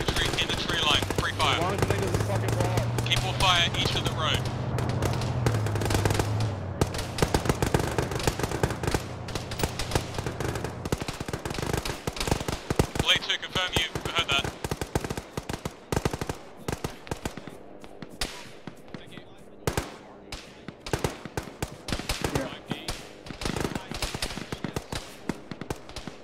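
Sustained automatic gunfire and scattered shots in an Arma combat game, dense and loud throughout with a low engine-like hum early on, shots continuing in rapid irregular bursts; voices occasionally talk over the firefight.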